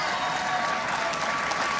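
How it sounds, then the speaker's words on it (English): A large assembly standing and clapping together, a loud, even wash of applause sustained for a short stretch with no break. "everyone's standing up clapping"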